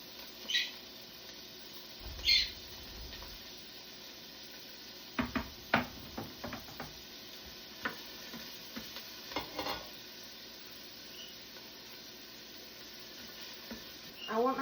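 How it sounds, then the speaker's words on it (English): Chopped onions hit a hot pot for a creamy harissa stew and give off a steady, crackling sizzle, with scattered sharper clicks and knocks as they are stirred. It is fairly quiet and sounds alone. "When you hear that sizzle, you know your pot's hot enough."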